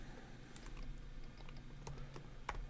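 Computer keyboard typing during a Final Cut Pro X titles tutorial: scattered quiet key clicks, irregular and faint over a low background hum, with no talking.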